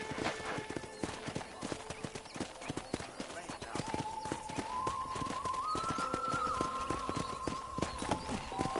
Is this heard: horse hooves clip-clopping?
yes